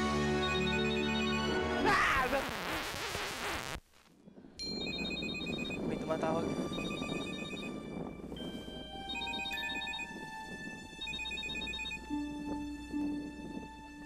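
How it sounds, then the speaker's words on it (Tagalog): A telephone rings with an incoming call during a drama scene, its repeated electronic ringtone tones running steadily over background music, with a brief break partway through. "May tumatawag."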